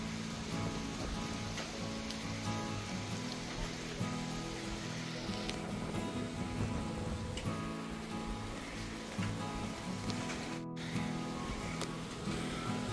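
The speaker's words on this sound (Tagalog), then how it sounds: "Yan, palakas na po ang ulan." Heavy rain falls steadily in strong wind, making a dense, constant roar that stays loud throughout.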